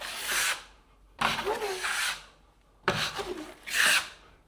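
A blade spreads a thin scratch coat of mud across an invisible speaker, making four separate rough scraping strokes, each about a second long and close by.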